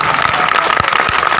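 Dense, steady applause from an audience fills the space with continuous clapping, loud and sustained.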